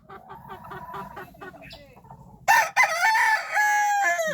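Chickens on a Filipino farm give a run of short, rhythmic clucks, then a loud, sustained rooster crow breaks in close to the microphone.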